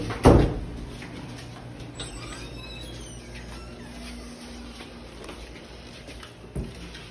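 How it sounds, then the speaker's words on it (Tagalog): A door is shut in a quiet room with one sharp thud at the start, a few faint creaks and rattles, and another softer thump near the end. "Sarado mo ang pintuan."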